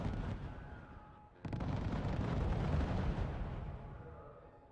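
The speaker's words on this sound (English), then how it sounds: "Not very accurate rockets, but they are precise. They fall over a pretty small area." Rockets from the Y artillery unit in RUSE slam down in a sudden heavy blast that swells into a rolling, rumbling barrage of impacts, then gradually fades, with no talk over it.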